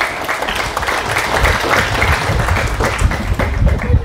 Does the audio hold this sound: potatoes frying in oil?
no